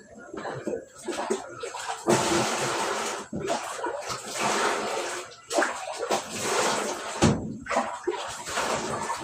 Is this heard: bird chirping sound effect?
no